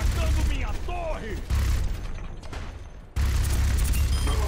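Turret firing in the video game Overwatch, a steady burst of rapid mechanical gunfire that cuts off and resumes, with brief pauses between bursts and game noise underneath.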